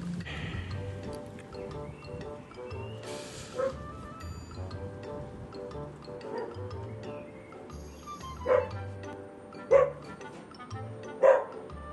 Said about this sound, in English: There's dogs barking and motorcycles.